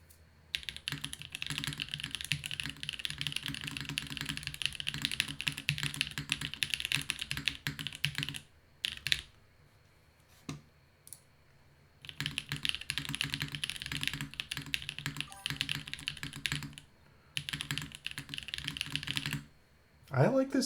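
Rapid clattering keystrokes from a rebuilt Protozoa mechanical keyboard with a polycarbonate case, typed in two long bursts separated by brief pauses and a few isolated clicks, close and clear with faint talking.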